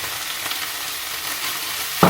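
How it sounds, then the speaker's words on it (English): Onions frying in a pan give a steady bright sizzle throughout, ending with a short louder clatter as they go in. "so now I can put the onions in."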